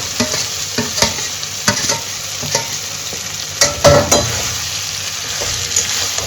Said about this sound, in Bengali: এই চাপটাকে এবারে দিয়ে দিচ্ছি তাহলে কি হবে ফ্রাই হয়ে হয়ে হতে থাকবে